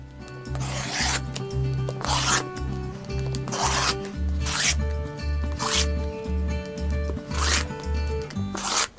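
A rotary blade cuts quilting fabric into binding strips along a ruler, giving repeated rasping strokes, about eight in a steady rhythm, close and fairly loud with soft thumps between them and no talking.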